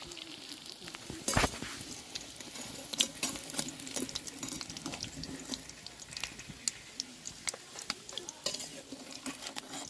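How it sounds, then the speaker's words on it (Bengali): Egg, potato and soybean kofta frying in a pan, a low sizzle under repeated scraping and knocking of a spatula against the pan, close and quiet, without speech. "আমি কিন্তু এইরকমভাবে বাকিগুলোকেও ভেজে নেবো"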